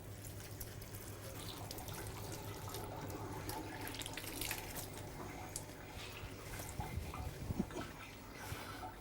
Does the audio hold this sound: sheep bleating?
no